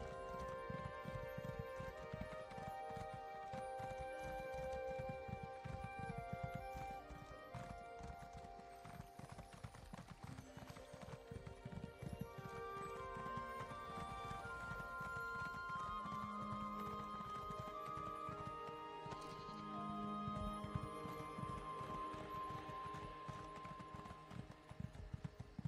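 Horse hooves clip-clopping at night in the video game Elder Scrolls Online, a steady quiet walking rhythm of hoof strikes under tonal game music, with no speech.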